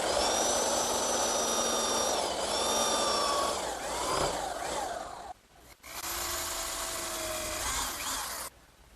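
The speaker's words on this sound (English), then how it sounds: "now I'll just use my belt sander to remove the excess dowel." Belt sander grinding flush the excess dowel on wooden desk legs, a loud steady whine with shifting pitch as it bears on the wood, pausing briefly twice before stopping.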